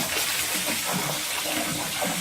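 Water rushes continuously into a tank aboard a boat being readied before Hurricane Ophelia, a soft, steady gushing wash with no pauses.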